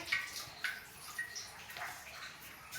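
Water drips and trickles inside the Tapkeshwar Mahadev cave temple on Osam hill near Patanvav, with scattered soft drops and a faint running-water wash throughout.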